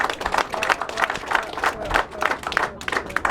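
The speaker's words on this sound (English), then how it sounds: "So please join me as we give Mr. Ilube a round of applause as it comes up." An audience at a House of Commons anniversary reception breaks into sustained applause, a dense, even wash of many hands clapping nearby for several seconds.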